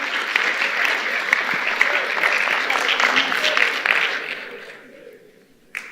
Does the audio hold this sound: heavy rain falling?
no